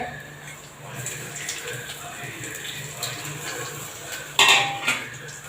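A utensil works tomatoes and salt around a pan for idli upma, giving soft scraping with a couple of sharp metallic clinks near the end against a quiet kitchen background.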